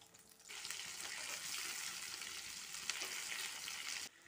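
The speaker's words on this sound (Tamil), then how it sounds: "நம்ம ஸ்டஃப் பண்ணி வச்சுருக்க கத்திரிக்காவை இந்த எண்ணெயில் சேர்த்துடலாம்" Stuffed eggplants frying in plenty of oil in a kadai for a biryani eggplant gravy, a loud steady sizzle that starts abruptly and holds broadband and continuous until it cuts off near the end, with no talking.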